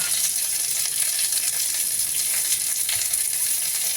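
Chopped onions and a tomato fry in a pan, a loud, steady, close sizzle with an even hiss and no voices over it.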